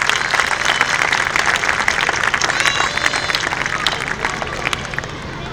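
A crowd at a primary school's annual gathering gives loud, sustained applause for over five seconds, with dense clapping and faint crowd murmur underneath.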